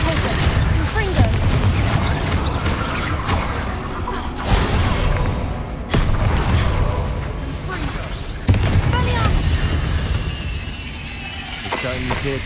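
Loud, booming spell blasts and crackling bursts fill a room during combat in the Hogwarts Legacy video game. Several heavy impacts are layered over a continuous rumbling din, and a character speaks beneath the noise.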